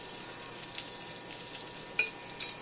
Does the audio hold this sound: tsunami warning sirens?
no